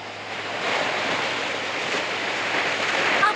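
Fast cartoon river current rushing toward a waterfall, a loud, dense and continuous watery roar that swells slightly early on and holds steady throughout, with no voices.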